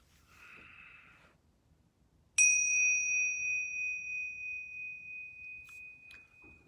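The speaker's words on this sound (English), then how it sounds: "So I'm going to ring these yoga bells 3 times." A yoga bell is struck once and rings out loud and clear, its bright tone sustaining and slowly fading over several seconds in a quiet room after a soft breathy noise.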